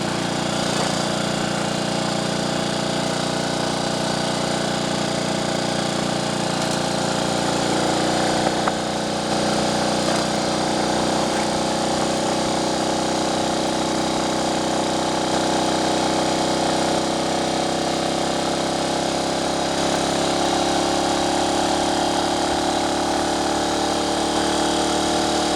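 A Triumph Tiger Cub trials replica motorcycle engine runs continuously on country lanes, a loud dense single-cylinder drone that rises and falls slightly in revs without pause, no talking over it.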